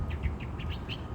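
A songbird sings in a Nashville city setting, giving a quick run of short, evenly spaced chirps at close range over a steady low rumble of background noise.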